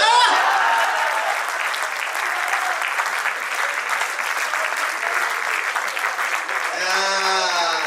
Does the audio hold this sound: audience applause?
yes